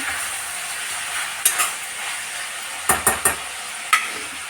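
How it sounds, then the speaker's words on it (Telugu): Tomatoes cooking in a pan, a steady bright sizzle with a few sharp clinks and scrapes of a stirring spoon, clustered in short bursts against the constant frying hiss. "ఇప్పుడు టమాటా కూడా కొంచెం మెత్తబడేంత వరకు అయితే మనం కుక్ చేసుకోవాలి"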